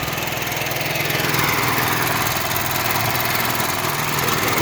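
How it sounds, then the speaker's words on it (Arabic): A 4-inch water pump runs on an electric generator, giving a loud, steady engine drone with constant mechanical vibration throughout, close by and uninterrupted. "دي مكنة 4 بوصة على مولد كهرباء"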